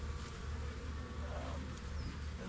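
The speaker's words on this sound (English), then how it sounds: "that old bottom board has a bunch of bees on it still, and I want those to go back into the hive" Honey bees buzz continuously around an old hive bottom board outdoors, a dense, steady drone of many insects close by, with no talking.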